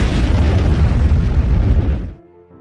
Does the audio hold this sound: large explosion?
yes